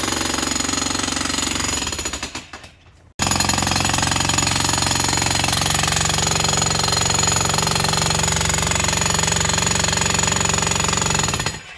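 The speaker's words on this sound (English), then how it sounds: "the jackhammer helped out to remove some of the roots" Electric jackhammer breaking up ground to clear old tree roots, a loud continuous rattling hammering that runs steadily, stops briefly after about two seconds, then resumes at full force for the rest of the clip.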